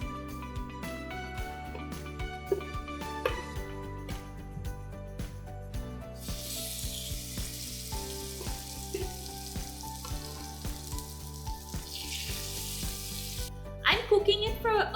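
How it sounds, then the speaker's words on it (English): Fish searing in a really hot pan with a tablespoon of oil, a loud, steady sizzle and crackle with the occasional clink of a utensil, growing a little busier near the end. "Wait for the pan to get really hot, and I'm going to give my fish a quick sear on both sides."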